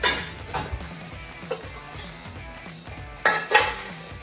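Metal pans and skillets clank and knock together as a pan is grabbed in a home kitchen while pasta and vegetables are made. Several sharp clanks come at irregular intervals, close and fairly loud, with softer scraping rattles between.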